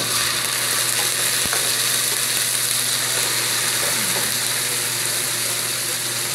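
Pork liver hisses loudly as it goes into a hot pan for bopis, a dense, steady sizzle with a faint clink of a utensil, close and continuous with no talking.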